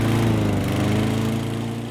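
A lawn mower cutting grass, its engine droning loud and close with a steady buzzing hum that fades slightly toward the end.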